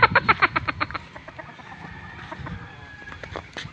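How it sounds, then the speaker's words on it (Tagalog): Chickens on a farm cluck in a quick burst of close, loud calls that thin out into scattered softer clucks over steady yard noise. "Tanawa kong mga manok pre."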